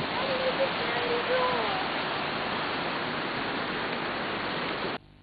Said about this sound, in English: come on, let's go to see this waterfall